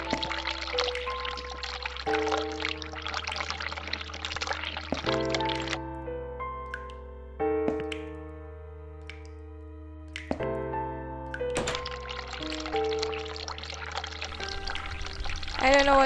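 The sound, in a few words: hot water running from a tap, video game The Cat Lady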